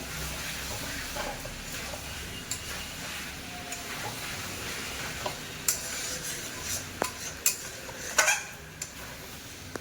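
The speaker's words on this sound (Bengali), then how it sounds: "ঢাকা দিয়ে চিকেনটা ভালো করে কষে নেবো" Chicken frying in a pan with oil, sizzling steadily up close while a utensil stirs and scrapes it, the knocks of the utensil growing more frequent toward the end.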